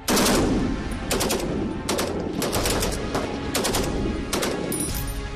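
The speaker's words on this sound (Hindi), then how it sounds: "इस मोर्चे पर भी फायरिंग का अभ्यास ताबड़तोड़ था।" Sustained bursts of rapid automatic gunfire during an army firing drill at a mountain post near Tawang, loud and close, with repeated volleys and echoing reports throughout and no talk.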